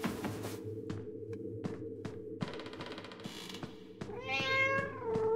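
A cat meows once in the horror game Five Nights at Freddy's Into the Pit, a rising then falling cry near the end, over ticking, clicking game ambience and a low hum.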